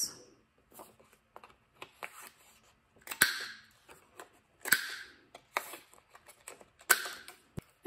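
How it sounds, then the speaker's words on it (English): Paper journal snippets cut by hand with scissors, giving a series of short, crisp snipping clicks at an irregular rhythm, close up and fairly quiet with gaps between cuts. "And these decorative parts, you can just cut by hand."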